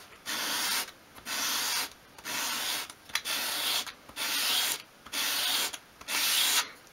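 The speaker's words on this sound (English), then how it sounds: "with a sheet of sandpaper flat on your work surface, take the piece of wood, hold it at a 45 degree angle and just sweep it towards you" A small wooden piece swept at an angle across a sheet of sandpaper laid flat on a work surface, giving eight evenly spaced raspy sanding strokes, each about half a second long, close and clear with short pauses between.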